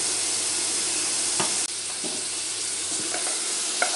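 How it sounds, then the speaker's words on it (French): Onion fries in a pan with a bright, steady sizzle, broken by a few scraping stirs and a brief drop in level partway through, all close and with nobody speaking. "On vient faire cuire l'oignon."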